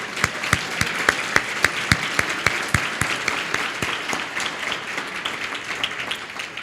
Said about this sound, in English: please, let's give a round of applause to our principals